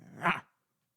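A dog gives one short bark or growl, a brief rough burst under half a second long that fades into silence, fairly faint.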